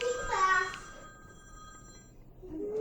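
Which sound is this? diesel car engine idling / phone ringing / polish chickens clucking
phone ringing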